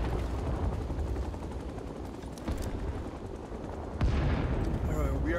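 Dense gunfire and explosions in Rising Storm 2: Vietnam, loud and unbroken, with rattling shots and booming blasts that swell near 2.5 and 4 seconds over a rumbling battle background.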